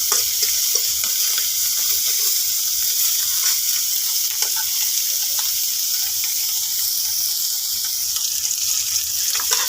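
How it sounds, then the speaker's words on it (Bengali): Small native tangra fish fry in hot oil, giving a steady, even sizzle and hiss throughout, close and fairly loud with occasional faint pops and no talking. "মাছগুলো ভাজা হয়ে গেছে"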